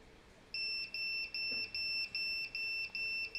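An alarm on an Arduino laser tripline beeps in a rapid steady series of high electronic pulses, loud and close, about eight bursts after a quiet start.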